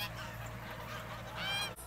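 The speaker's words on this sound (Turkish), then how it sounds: "Sulak alana yakın bölgelerde otlatılıyor kazlar." Farm geese grazing near wetland honk almost continuously, loud and close, with several overlapping calls and a brief gap near the end.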